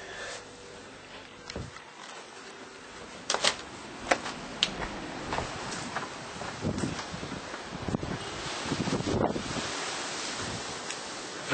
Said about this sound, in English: very gusty winds